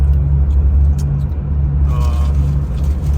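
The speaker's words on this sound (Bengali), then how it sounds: "আমাদের সাথে আছে আবু বকর আঙ্কেল, অনেক অভিজ্ঞ, ড্রাইভিং করতেছে ভালোভাবে।" A car driving on a road heard from inside the cabin, with a heavy low rumble of engine and tires, steady and loud throughout, and a faint brief high tone near the end.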